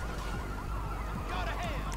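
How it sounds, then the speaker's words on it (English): A car alarm wails in a video game, with rising and falling siren-like tones over a dense, loud rumble of engine and game noise. "Set off a car alarm."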